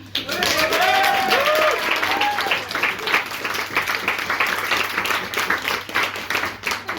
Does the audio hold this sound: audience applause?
yes